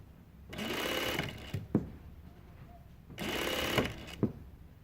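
A Juki DDL-8700 industrial sewing machine with a synchronizer set to needle down runs in two short bursts, each ending with a sharp stop thunk as the needle parks down, with quiet hum between.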